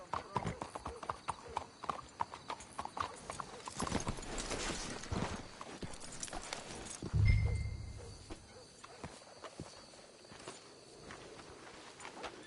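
Horse hooves clip-clop at a steady walking pace in the Red Dead Redemption 2 video game, with several horses moving together, a brief heavier thump midway and a whinny-like call, while speech passes over the steps.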